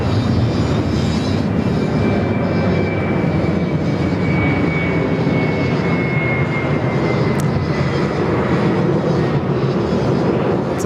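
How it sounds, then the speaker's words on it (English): Heavy jet airliner on final approach to land on runway 34 left at Sydney Airport, a steady loud broadband engine roar with a faint high whine, continuous throughout with no speech. "we've got a heavy just about to touch down there on 34 left"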